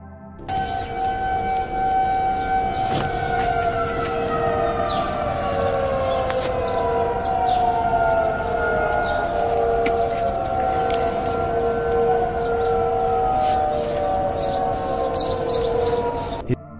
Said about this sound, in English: his neighborhood by the woods is filled with the sounds of sirens